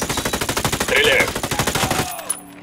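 Rapid automatic gunfire from a shooter video game, Ghost Recon Wildlands, rattling in a steady burst for about two seconds before cutting off into a quieter tail, loud and close with a voice faintly underneath.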